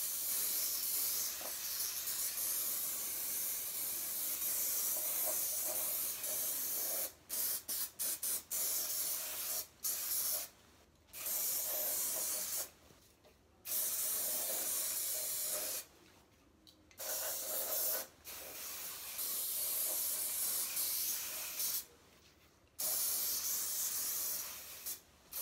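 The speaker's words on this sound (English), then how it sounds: "So we're going to spray it down liberally." Long, loud hissing bursts from an aerosol spray can coating a mirror, repeated with short pauses between them, steady and close with no talking.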